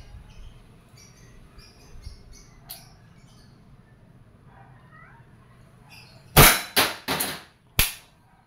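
A Wingun 708 CO2 airsoft revolver fires steel BBs double action: four sharp, loud pops in quick succession, then a fifth shot after a short pause, preceded by faint mechanical clicks and quiet background.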